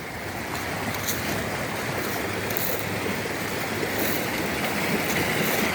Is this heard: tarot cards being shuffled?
no